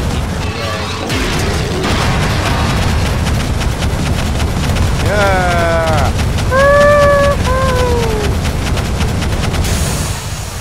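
Weapon blasts in the fantasy strategy game Divinity: Dragon Commander, a loud dense run of rapid repeated shots and booms, joined midway by warbling creature cries, all without speech.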